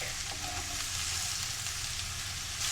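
Onions and mushrooms fry in a pan with a steady, bright sizzle that holds throughout, with no talking.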